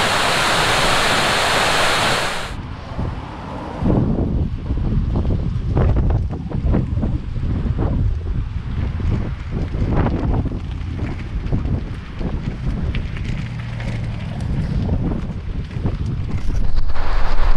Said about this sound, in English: Down there is obviously where all the water comes out.